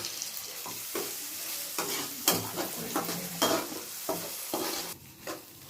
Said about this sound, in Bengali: এবার আদা রসুনটা ভাজা হয়ে গেলে একটু দিয়ে দেবেন টমেটো কুচি